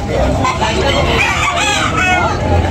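Roosters crow loudly at a busy fighting-cock market in Tabunok, Talisay, Cebu, long crows overlapping with clucking and a hum of crowd noise close by.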